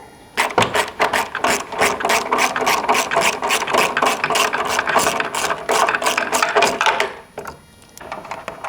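A ratchet removes 10 millimeter bolts from a plastic bracket during an off-road front bumper installation, giving a loud, fast, steady clicking that runs for several seconds before stopping, followed by faint handling.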